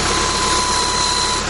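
A tractor engine runs with a PTO sprayer attached, a loud, steady mechanical drone with a faint constant whine, heard close by and uninterrupted.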